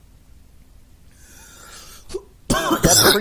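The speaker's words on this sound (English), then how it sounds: "It was a cough." A single sharp cough near the end, after a quiet stretch of faint background noise; a voice speaks briefly around it.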